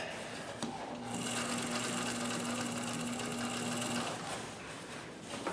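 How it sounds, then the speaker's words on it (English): A sewing machine stitching a denim jeans leg, with the fabric bunched as it feeds, running in one steady, close mechanical hum for about three seconds before stopping. "you have to sew and bunch up the leg all at the same time"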